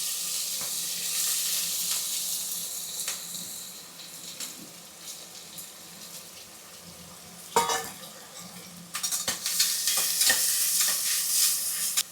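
Sliced onions hit hot oil with whole spices in a pan, making a bright sizzle with frequent spoon scrapes and taps against the metal. A couple of sharper clanks come near the end, and the frying grows louder and busier.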